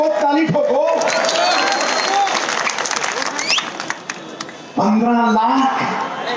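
A crowd at a political rally breaks into loud, sustained applause and clapping, running under a man's amplified speech, then dropping briefly before the voice returns strongly.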